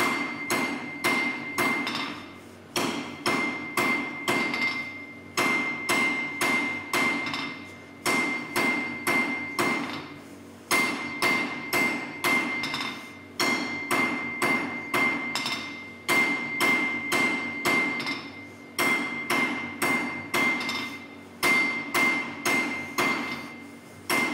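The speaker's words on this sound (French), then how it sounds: "Mon marteau toujours au même endroit. Et je tape." A blacksmith in an art ironwork class hammers hot iron on an anvil while bending a right angle, striking loud, close, ringing blows in quick rhythmic runs separated by short pauses, with no talk.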